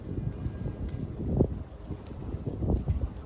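Wind buffets the microphone in low, uneven gusts as a boat eases slowly into its slip while docking, with a couple of stronger rumbling surges and no talking.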